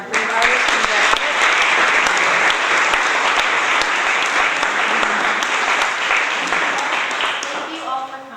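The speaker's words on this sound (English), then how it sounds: "Let's give one more round of applause for all of our brave artists from Brett Abbott" A live audience at an art photography event gives sustained, dense applause for the exhibiting artists, loud and close, continuing steadily for several seconds before easing slightly at the end.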